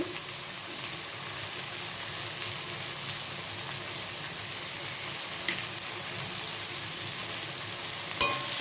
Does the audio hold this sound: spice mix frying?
yes